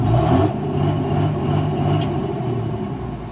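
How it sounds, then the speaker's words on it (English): Early third-generation Cummins diesel truck held on its rev limiter to spool the turbo, a loud, close, steady droning engine note with a rough, pulsing texture, easing slightly over a few seconds; no talking. "Got yourself a rev limiter to spool the turbo."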